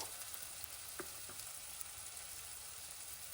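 Onions and green chillies frying in hot oil, a steady close broadband sizzle with a couple of faint soft clicks near the start, no voices.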